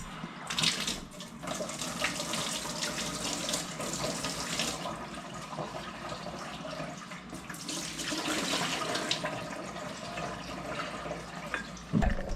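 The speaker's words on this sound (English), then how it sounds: "So now I'm going to rinse my butter in some cold water." Cold tap water runs steadily into a bowl as homemade butter is rinsed, a continuous splashing rush that swells and dips with the handling, with no talking.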